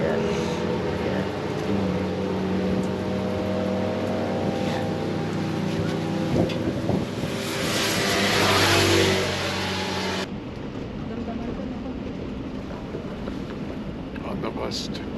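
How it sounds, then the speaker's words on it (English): A bus pulls in at the Pagudpud public market, a loud rumbling engine and rising roar swelling then dropping off as it stops, with outdoor street noise and people talking around it. "The bus is here."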